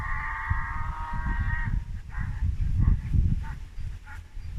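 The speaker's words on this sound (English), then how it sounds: "I don't know if you heard that, but that's a donkey." A donkey brays from a distance, a drawn-out honking call followed by a few shorter wheezy gasps, over low rumbling background noise.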